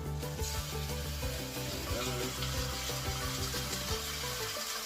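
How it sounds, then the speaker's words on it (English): Beef shin sizzles and crackles steadily in a hot pan, a dense continuous hiss up close with small pops throughout. "You should hear it sizzle nice."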